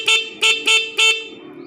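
A motorcycle's stock horn, wired through a toggle switch and 4-pin relay, honks four short blasts in a quick, slightly uneven rhythm, loud and close with no talking.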